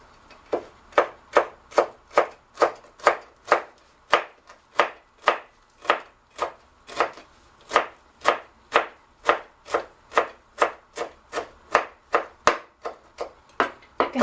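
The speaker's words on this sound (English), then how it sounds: "Now we cut parsley." A knife chopping parsley on a cutting board for coleslaw: a steady, even rhythm of about two crisp chops per second, close and clear, with no talking.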